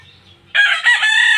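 A malatuba gamecock crows once, loud and close, a bright sustained call following a faint low rustle.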